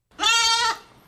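A goat bleats once in a backyard, a single wavering, nasal cry lasting about half a second, close and clear with no talk around it.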